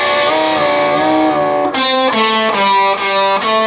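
Guitar riff from a song, played loud and close; sustained chords ring first, then a run of rhythmic picked notes with short slides repeats to the end, with no talking.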